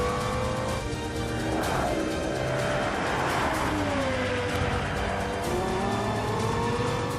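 A Lexus LFA driven hard around the 20-kilometre Nürburgring track, engine roaring continuously at high revs with pitch sweeps and squealing tyres through corners, loud and sustained without talk.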